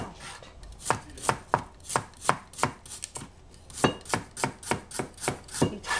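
A knife chops cucumber on a board in a steady run of sharp, close taps, roughly three or four per second, with no voices.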